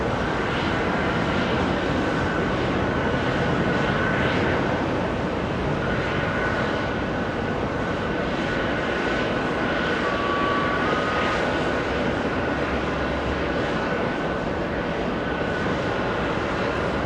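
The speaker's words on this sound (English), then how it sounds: "We go for the departure. JetBlue 1105 heading to O'Hare International." A JetBlue jet departing JFK for O'Hare, producing a constant, moderately loud engine rumble that stays level for the whole stretch, with no one speaking.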